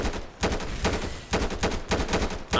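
Gunfire in the video game GTA San Andreas comes as a rapid run of loud, close bursts in quick clusters, with short pauses between volleys.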